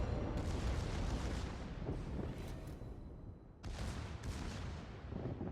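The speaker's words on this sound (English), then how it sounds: "His secondaries are really pounding the Nagato." Secondary guns of a German tier 9 battleship in World of Warships pounding a Japanese tier 7 Nagato: loud, rapid overlapping cannon blasts and booming rumble roll on continuously, with repeated sharper volleys punching through.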